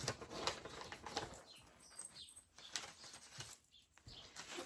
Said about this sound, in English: they're just letting all the birds in the house